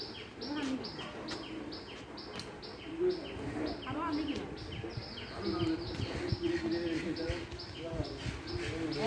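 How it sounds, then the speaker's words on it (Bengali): Birds chirp in quick repeated bursts near a village pond with steps, mixed with an insect-like buzz over a muffled outdoor background. "পাখিদের আওয়াজ"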